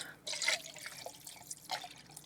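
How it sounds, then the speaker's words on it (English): Homemade vegetable broth swishes and drips as a can is rinsed out with it, in faint, splashy bursts of liquid separated by short quiet pauses. "we're going to use that to rinse our can out"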